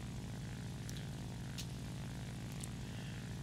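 Steady propeller engine drone from a stock warplane in War Thunder, a constant low hum with faint brief ticks on top and no talking.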